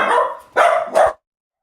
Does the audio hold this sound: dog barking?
yes